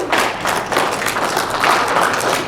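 A convention audience at a retro gaming expo talk claps together, a dense, loud burst of applause that fills the room without pause.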